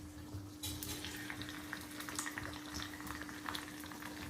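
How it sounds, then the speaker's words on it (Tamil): Karuvadagam frying in ghee as a tempering for a spinach kootu, a steady close sizzle with a bubbling, boiling crackle that swells after a soft start and keeps going on its own. "நல்லா பொரியட்டும்."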